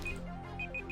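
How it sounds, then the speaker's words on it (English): A timer going off with repeated high electronic beeps in short pulses, fairly close, over a faint tonal background. "the timer's going."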